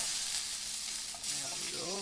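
Steak sandwich ingredients cook gently on low heat, a soft, continuous sizzle in a pan, close but fairly quiet, with no talking.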